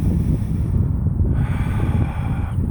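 Wind blows through the woods outdoors, a steady, close rumble buffeting the microphone with gusty low roar and no pauses throughout.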